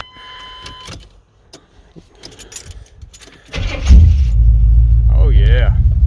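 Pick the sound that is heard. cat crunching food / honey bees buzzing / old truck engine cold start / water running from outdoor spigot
old truck engine cold start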